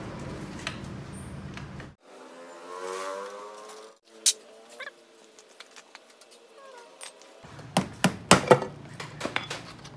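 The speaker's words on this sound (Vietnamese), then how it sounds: "Bắt đầu mình sẽ tháo tất cả những con ốc còn lại ra" Bolts being taken out of the clutch of an Exciter 150 motorcycle, a repair on a damaged clutch, with sharp metallic clicks and clinks of tools and parts, a quiet stretch in the middle, then a burst of closer clatter.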